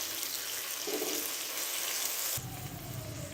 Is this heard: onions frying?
yes